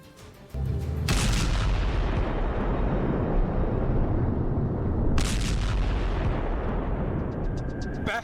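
Heavy booming blasts from an Israeli missile attack on the Gaza Strip, a loud sustained roar of explosions and rumbling fire after a quiet opening, with sharp bursts at the start and again midway.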